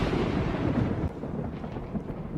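Heavy rain pouring down outside in a dense, steady roar that is loud and continuous, with a slight drop in level partway through and no voices.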